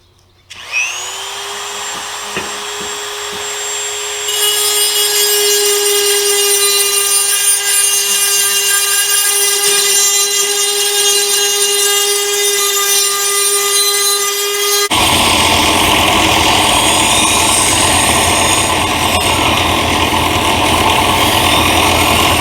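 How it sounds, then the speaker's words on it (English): A Dremel rotary tool spins up and grinds a saw-blade ulu knife, a loud high whine with shifting pitch that turns harsher and rougher partway through, continuous and close. "Now I'm finishing the shaping of this with the Dremel tool"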